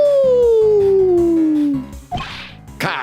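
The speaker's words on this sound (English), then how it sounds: "howl like you mean it. Howl." A long, loud howl from a character in the video game Ace Attorney Investigations 2 glides steadily downward in pitch, then breaks off into a couple of sharp thwacking hits.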